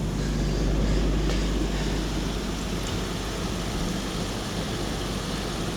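A serviced Hessaire swamp cooler with wet pads and a new pump runs steadily nearby, giving a loud, even blowing rush with a low hum underneath and no talking.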